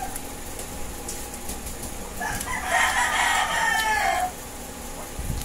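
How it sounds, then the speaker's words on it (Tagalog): A rooster crows once, loud and drawn out over a couple of seconds, against a steady background hum. "Meron na naman tumitilak na manok."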